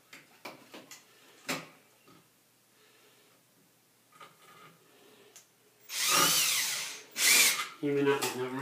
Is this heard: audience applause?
no